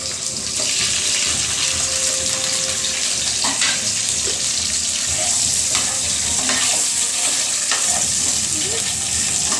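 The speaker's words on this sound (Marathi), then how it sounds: "आणि हे अंडी आपण कट केलेली आहेत मधी त्याच्यामध्ये आपल्याला फ्राय करायचे तेलामध्ये" Halved boiled eggs fry in hot oil with a pinch of turmeric, a loud, continuous sizzle close by, with occasional stirring clinks and scrapes mixed in and no one speaking.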